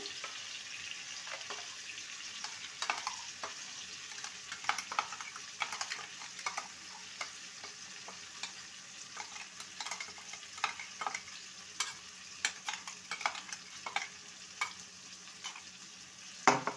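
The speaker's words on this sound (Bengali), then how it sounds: "গ্যাসের ফ্লেমটাকে মিডিয়ামে রেখে ভালো করে ডালটাকে নেড়ে নিতে হবে" Ground moong dal is stirred and fried over a medium flame in a pan with cooked potato for a Bengali ridge gourd curry, giving a soft continuous sizzle with frequent light scraping and tapping of a spoon throughout.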